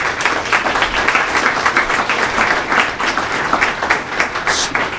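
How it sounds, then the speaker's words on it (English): Applause at a school board of education meeting, honouring staff: a steady, dense wash of many hands clapping, fairly close and loud, sustained throughout without speech over it. "they really deserve a round of applause for all the work that they're undertaking"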